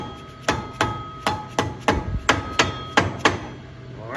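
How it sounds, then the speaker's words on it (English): A rubber hammer taps metal about ten times in a steady rhythm on a Can-Am X3 rear axle, each hit sharp and ringing briefly, close up with no talking. "Now I'll take my rubber hammer or a bit blow hammer here, just kind of tap it on there"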